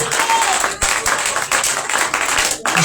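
A congregation at a Shavuot church service applauding, dense, loud and continuous, with a few brief dips and voices mixed into the crowd noise.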